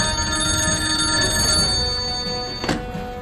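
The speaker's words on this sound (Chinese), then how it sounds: "吕座电话。" An old-style telephone bell rings continuously, loud and close, ending with a dull thunk as it is picked up.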